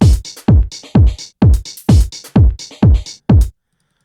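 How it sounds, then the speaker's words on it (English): Punchy electronic drum beat with booming kicks and crisp snare hits in a steady repeating pattern, ending abruptly in silence. "I'm going to add a snare drum."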